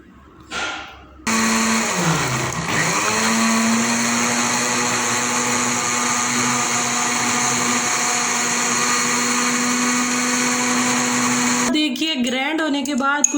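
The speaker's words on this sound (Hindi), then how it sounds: "तो अब हम इसको ग्राइंड कर लेते हैं।" A mixer grinder jar purees a spicy shawarma sauce paste, starting with a rising whine and then holding a loud, steady motor drone for about ten seconds before stopping, with a brief voice at the start and end.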